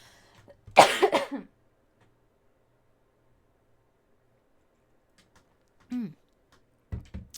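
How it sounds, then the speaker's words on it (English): A sharp burst of coughing near the start, then quiet, followed by a couple of shorter throat-clearing coughs later on. "I had a really bad cough there for a second"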